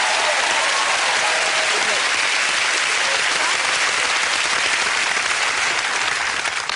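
A TV game show studio audience for an all-star family quiz breaks into sustained, dense applause, loud and even from start to finish with no pauses.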